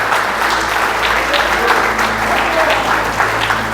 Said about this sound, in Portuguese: Aplauda Jesus agora para ele.